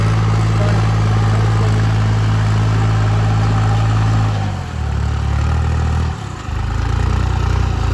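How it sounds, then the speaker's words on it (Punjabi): A modified 3630 tractor straining at full power in a field, its wheels slipping, gives a loud, close, steady low diesel drone that shifts pitch and briefly dips about halfway before steadying again. "ਟਰੈਕਟਰ ਤਾਂ ਪੂਰਾ ਜ਼ੋਰ ਮਾਰ ਰਿਹਾ"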